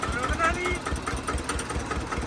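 A Swaraj tractor engine with a broken silencer runs loud and close, its rough, unmuffled exhaust pulsing steadily throughout with a raw, rattling throb.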